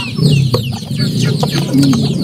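Gamefowl chickens cluck steadily and close by, several birds overlapping in a busy farmyard chorus.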